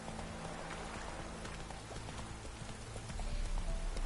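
Rapid hoofbeats of a running horse in The Witcher 3: Wild Hunt patter steadily over a hissing, rain-like ambience, growing slightly louder toward the end.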